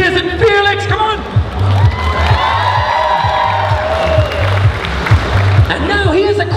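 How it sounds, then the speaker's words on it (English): Crowd clapping and cheering at a cosplay session on a gaming expo stage, loud and steady throughout, with whoops and shouts over pulsing stage music and announcer-style voices. "Gentlemen, clap your hands."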